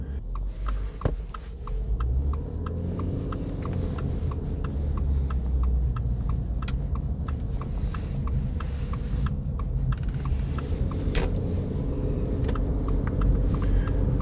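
A car drives on the Conestoga Parkway, with a steady low road and engine rumble under a regular ticking, likely a turn signal, and no talking.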